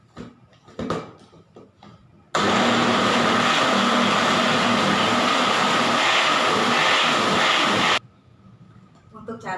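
An electric blender grinds chili peppers in a loud, steady whir that runs for about six seconds and then stops abruptly. Talk can be heard before and after it.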